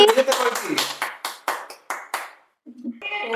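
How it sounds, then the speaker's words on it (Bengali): Several people clap hands at a home birthday celebration, about a dozen loose, close claps in an uneven rhythm that thin out before the end. Voices speak over and after the clapping. "হাততালি হাততালি"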